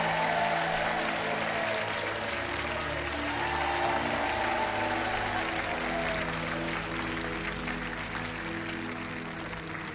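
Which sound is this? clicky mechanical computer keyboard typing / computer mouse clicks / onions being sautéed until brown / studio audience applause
studio audience applause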